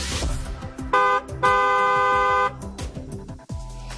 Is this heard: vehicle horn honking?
yes